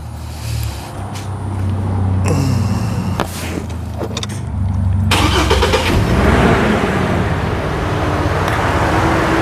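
A 1966 Chrysler New Yorker's engine runs steadily after starting, a loud continuous rumble with low throb that swells slightly midway and holds alone to the end.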